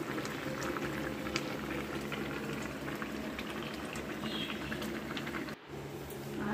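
Lentil dal bubbles steadily in a pot on the stove, a close, continuous simmering hiss and pop with one brief dip near the end.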